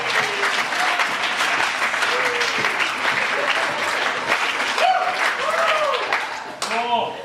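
Wedding guests applaud during the speeches, a dense sustained wash of clapping with a few voices and whoops rising over it, continuous for several seconds before thinning at the end.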